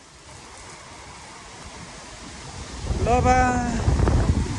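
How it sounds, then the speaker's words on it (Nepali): A sudden windstorm with heavy rain, a steady blustery wash of wind and rain that swells louder toward the end, with a person briefly speaking over it. "हावासँगै तुफान आइरहेको यस्तो पानी यार"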